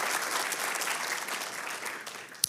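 An audience claps for the sound crew at a talk on honour, a brief burst of applause heard from a distance with a few sharper claps toward the end.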